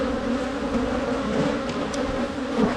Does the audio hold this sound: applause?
no